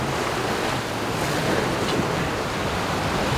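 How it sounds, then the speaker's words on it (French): Strong wind of over 20 knots, gusting to 30, roars over the microphone aboard a sailboat while waves wash and splash steadily, a constant dense rush of noise out on open water. "Le vent a bien forci, il y a plus de 20 nœuds,"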